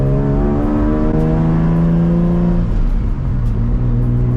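A turbocharged Nissan Z with a Tomei engine runs on a dyno, a loud sustained drone that holds, dips briefly and settles into a steady high rev, close with no voices.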